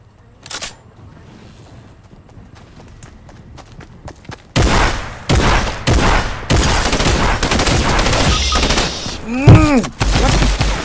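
Rapid gunfire in Fortnite, with faint scattered shots early, then loud bursts of automatic fire and repeated shots in close succession, plus a rising tonal game effect near the end, with a voice talking underneath.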